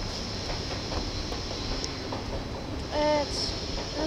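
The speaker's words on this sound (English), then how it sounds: "At Antwerp Central train station." Train at Antwerp Central station, a steady rumbling hum of rail cars with a brief squealing whine of wheels or brakes near the end.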